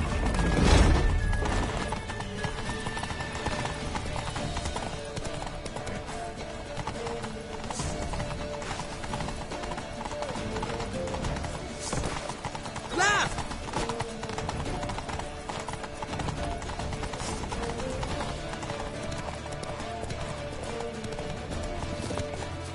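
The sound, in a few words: horse hooves galloping in The Witcher III video game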